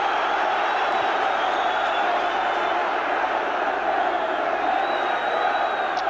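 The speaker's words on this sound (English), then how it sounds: "Just listen to this crowd now." A packed football stadium crowd of about 33,000 roars steadily at an FA Cup fourth-round match between Chelsea and Liverpool, a dense, continuous wall of cheering and chanting that stays loud throughout with no break.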